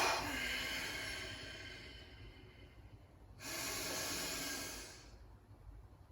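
Deep inhalations and exhalations during a breathing meditation: a long, soft breath hiss that fades, then a second, louder airy breath lasting about two seconds, with no talking.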